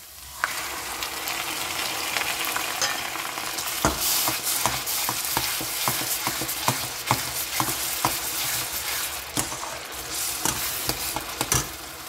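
Onions browned in a pan sizzle steadily as a paste of onion, ginger, garlic and tomato goes in for a Bengali potato curry, with repeated spoon scrapes and clicks against the pan over the constant frying hiss.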